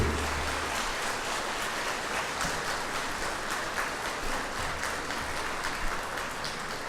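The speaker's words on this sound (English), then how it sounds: "Could I get a big round of applause for the students moving on to UNBC?" At a college graduation ceremony, the audience applauds for the students with a broad, even roar of clapping that holds steady at full strength from start to finish, filling the hall.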